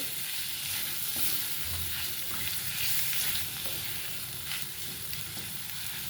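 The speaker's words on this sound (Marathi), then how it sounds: "आणि हा टोमॅटोसुद्धा आपल्याला छान असा परतून घ्यायचा आहे" Tomato sautéing in a pan for aloo matar bhaji, a steady soft sizzle and frying hiss with occasional stirring scrapes, close and fairly quiet with no talking.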